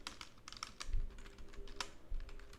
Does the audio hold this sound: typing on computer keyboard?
yes